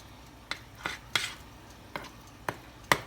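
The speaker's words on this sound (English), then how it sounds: "divide the mixture equally between the prepared tins, and then just spread it across with a knife" A knife spreads cake mixture across baking tins, six sharp metallic taps and scrapes spaced irregularly over a quiet background with no speech.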